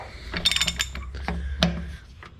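Ratcheting wrench clicks and metallic mechanism noise while bolts are cranked down on an International Harvester IH 1066 tractor speed transmission, with quick clustered ratchet bursts up close and a couple of sharper clanks.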